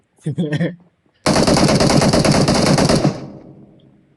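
Sustained automatic gunfire rings out in the shooter game PUBG Mobile, a loud rapid burst lasting nearly two seconds before it fades, with a short voice just before it.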